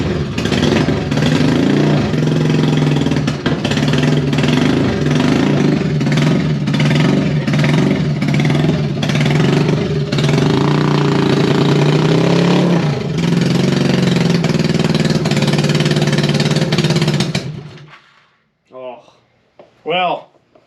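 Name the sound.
1975 Honda Goldwing motorcycle engine running after 41 years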